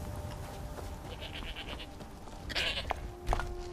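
A goat on a farm in Skyrim gives a few short bleats close by, over a low, steady background of ambient game sound.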